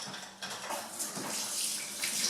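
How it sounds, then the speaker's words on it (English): Apple and blackberry crumble filling poured into a deep-sided pie dish, a steady wet slushing pour that runs throughout, close and fairly quiet with no talking. "So I'm now going to just pour my apple mix"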